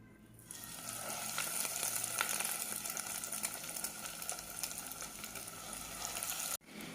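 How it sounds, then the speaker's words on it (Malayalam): Chicken egg rolls fry in hot oil with a steady, fairly quiet sizzle and fine crackling that holds evenly, then cuts off abruptly near the end. "ഇനി നമുക്കിതിലേക്ക് ഓരോന്നിട്ട് ഫ്രൈ ചെയ്യാം."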